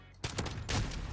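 Pistol shots from a 1911 in Call of Duty: Modern Warfare, a couple of loud close reports in quick succession over a dense game soundscape.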